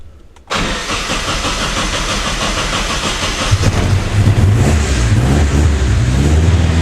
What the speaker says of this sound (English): we're going to try starting this thing up